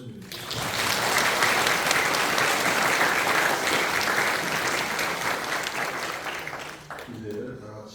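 Congregation applauding at a Korean church pastor ordination service, sustained dense clapping that fills the hall for about seven seconds, then fading into quieter room sounds.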